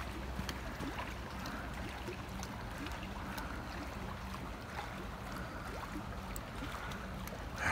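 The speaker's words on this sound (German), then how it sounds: "Hört ihr das Wasser plätschern?" Water gently splashing and lapping at Rulantica water park in off-season winter, a continuous soft wash with faint trickles and occasional drips, steady and moderately near, no talking over it.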